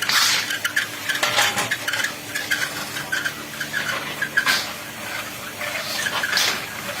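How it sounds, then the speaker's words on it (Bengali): Puffed rice being hand-roasted in wide pans the traditional way, with continuous scraping and stirring rattles and gritty swishes close by, plus occasional metallic clinks, running steadily without speech. "একেবারে দেশীয় পদ্ধতিতে হাতে ভাজা মুড়ি"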